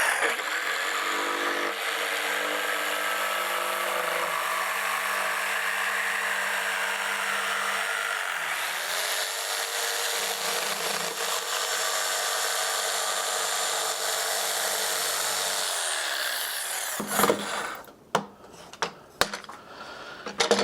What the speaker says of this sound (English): I'm going to cut it out with the jigsaw.